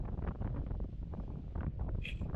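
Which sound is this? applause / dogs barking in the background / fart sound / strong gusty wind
strong gusty wind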